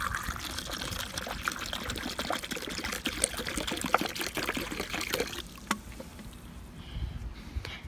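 Distilled water is poured from Dasani bottles into a car's coolant system, making a steady, close gurgling trickle that continues for several seconds before thinning out toward the end.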